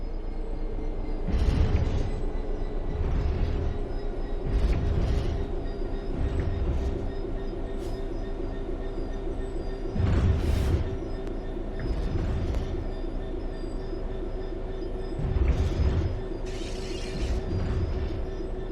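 A train coasts on level track in Train Sim World 3, a steady rolling rumble with a sustained mechanical hum, punctuated by rhythmic thumps of wheels passing rail joints every few seconds.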